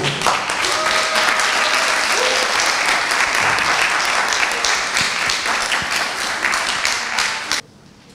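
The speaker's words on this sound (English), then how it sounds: "Can you give some applause, please?" Sustained applause from a crowd at a book launch, steady and loud for several seconds, then cut off abruptly near the end.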